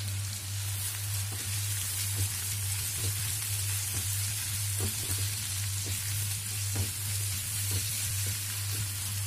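Black mustard seeds sizzling in hot oil, a close, constant crackling fry dotted with small pops and spatters, with a low steady hum running underneath.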